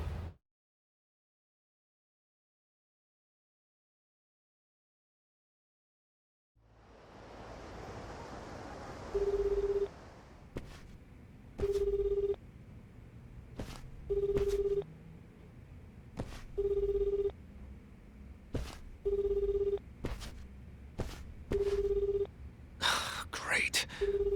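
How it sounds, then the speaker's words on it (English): A phone in the video game Like a Dragon: Infinite Wealth dialing and then ringing, with a short tone burst followed by evenly repeating ring pulses over soft background ambience after a stretch of silence. "Looks like they turned off Kiryu-san's phone"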